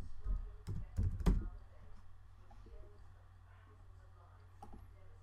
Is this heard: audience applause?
no